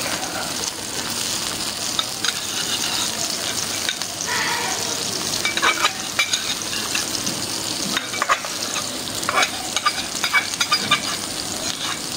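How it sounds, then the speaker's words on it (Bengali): Spices and ground almond paste for korma pulao fry loudly in a pot, a dense sizzle broken by scraping stirs and clanks of the spoon, with no talking. "একেবারে ভাজা ভাজা করে হালাইছি।"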